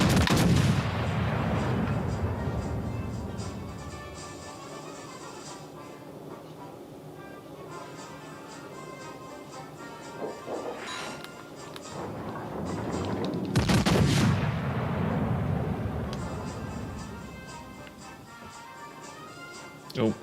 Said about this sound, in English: Fire on the enemy warship.